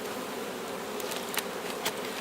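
Honey bees in an opened hive, worked with a hive tool over the queen excluder, give a steady, quiet buzzing drone that holds even throughout, with a few brief soft clicks and scrapes near the end.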